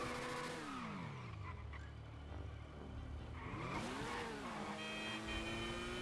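BMW R1200 motorcycle engine while riding, a steady droning hum with rising and falling pitch as revs shift, heard alone with wind noise.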